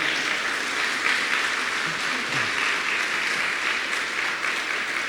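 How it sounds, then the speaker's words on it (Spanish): A church congregation applauds at a Spanish-language sermon, dense and loud clapping from a large crowd filling the room continuously, with a faint voice briefly audible beneath it. "Podemos darle un aplauso a Dios porque Dios ha sido fiel."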